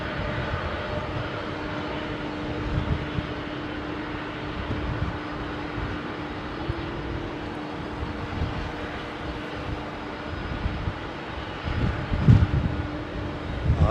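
Boeing 767 airliner coming in to land, its engines making a steady, broad roar with a low drone that holds throughout and swells slightly near the end.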